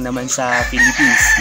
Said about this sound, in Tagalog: pasensya na kayo sa manok na